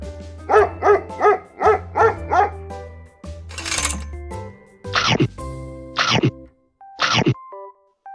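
A dog barks in a quick run of five sharp, close barks, then a pause and three more spaced, louder barks, with a soft whine and bed of background music between them.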